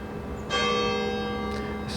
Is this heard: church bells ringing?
yes